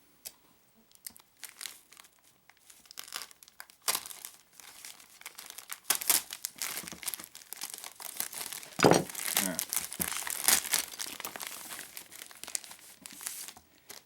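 Plastic packaging on a model robot kit is cut open close up, giving crinkling, crackling and tearing sounds that build from sparse rustles to denser handling.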